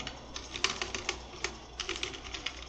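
Typing on a computer keyboard, with quick irregular clicking keystrokes, close and fairly quiet, and no voices.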